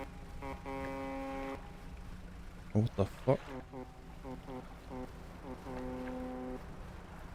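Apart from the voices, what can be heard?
ship horn honking at night in video game Dredge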